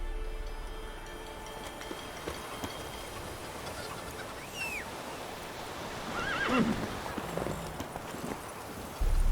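Roach, the horse in The Witcher 3, gallops through the game world with soft, steady hoofbeats over busy ambient noise. A whinny rises partway through.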